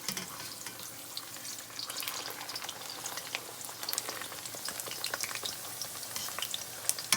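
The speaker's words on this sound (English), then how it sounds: "Let it fry nicely." A scallion pancake frying in very hot oil gives off a soft, continuous crackling sizzle with scattered small pops throughout, fairly quiet and close, with no voices.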